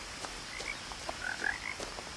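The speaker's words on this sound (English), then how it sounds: "I can hear frogs" Frogs croak in a darkening forest in the video game What Remains of Edith Finch. Several small chirping croaks sound over a steady ambient wash, fairly faint and distant, with no speech.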